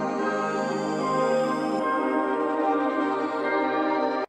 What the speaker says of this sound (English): So I'm starting out with this loop from my Outer World loop kit